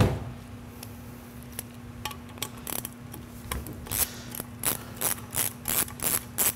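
A ratchet turns out Torx bolts holding a car's fuel rail, rapid close clicking in short bursts that grow more regular toward the end, with a faint steady hum underneath.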